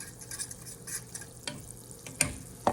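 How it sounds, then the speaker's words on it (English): A metal utensil scrapes and scratches against a pan of pepper steak over low heat in short strokes over a quiet sizzle, with a couple of sharper scrapes near the end. "instead of making all that noise scratching the pan"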